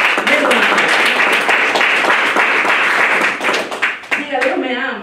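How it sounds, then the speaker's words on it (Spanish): Congregation in a church giving a loud round of applause, dense clapping mixed with cheering voices, tapering off near the end as scattered shouts come through. "Denle un aplauso al Señor."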